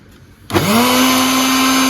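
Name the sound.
mixer grinder grinding soaked masoor lentils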